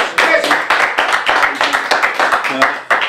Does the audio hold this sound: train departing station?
no